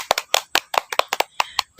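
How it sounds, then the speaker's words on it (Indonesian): A small group of children claps in a classroom after singing an Asmaul Husna song, giving about a dozen sharp, fairly close claps in an uneven, loosely shared rhythm with no talking. "tepuk tangan untuk kita semua"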